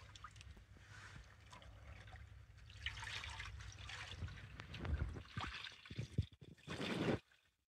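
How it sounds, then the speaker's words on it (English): Sheep fleece wool swished around in a tub of hot water, a soft sloshing and trickling that builds gradually, with a few louder splashes near the end. "I do move the wool around in the hot water"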